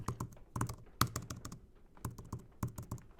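Typing on the backlit keys of an iPad Pro Magic Keyboard produces quick clusters of crisp, close clicks in irregular bursts with short pauses, and nothing else is heard.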